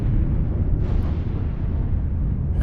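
A destroyed object blowing up in the space game Eve Online, a low, rumbling explosion that roars steadily for a few seconds without clear breaks.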